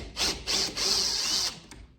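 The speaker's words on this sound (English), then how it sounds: "this is a ratcheting drill" A ratcheting drill backs Phillips head screws out of a Kwikset front door handle, giving a few short whirring bursts followed by one longer steady run, close and fairly quiet, with no talk.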